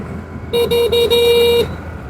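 A Hero Xoom 125 scooter sounds its horn in four quick beeps followed by one longer held beep, a thin, fairly modest electric tone heard close up with no talking.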